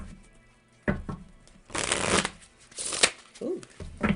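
Brisk bursts of tarot cards being shuffled, riffled in a few quick rounds with short pauses between, close up.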